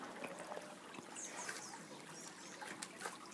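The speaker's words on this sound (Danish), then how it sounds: "Nu står vi så hernede i åen, eller Madsen er lige på vej ned." Water trickling in a small stream, a faint, continuous babble with light splashy detail heard outdoors, steady throughout and with no talking.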